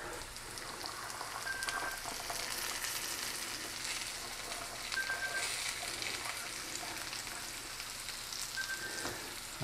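Onions and garlic sizzle in a hot pan as a dense, steady frying hiss, close and continuous with no voices.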